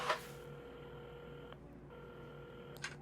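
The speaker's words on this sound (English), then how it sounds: "Carmen had started dialing the phone" Phone dialing in the video game Assemble With Care: a steady electronic dial tone broken by a short pause and resumed, with a soft click at the start and another near the end, clear and alone without talk.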